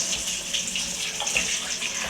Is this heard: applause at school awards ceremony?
no